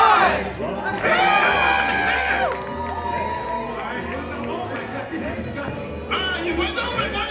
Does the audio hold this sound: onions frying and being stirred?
no